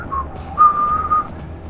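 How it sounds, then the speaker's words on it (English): A person whistles nearby: a short rising note, then a longer steady tone held for about half a second, clear over a low background rumble. "Whistle."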